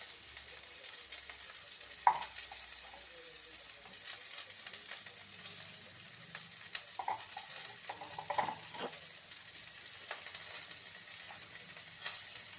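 Vegetables for fried rice fry in a pan with a soft, steady sizzle, broken by occasional scraping stirs and light clinks of a utensil against the pan.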